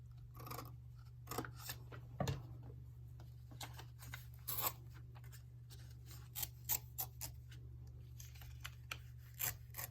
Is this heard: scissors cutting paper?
yes